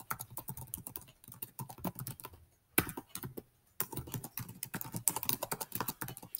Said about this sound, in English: I'm going to start by typing in the email address of my manager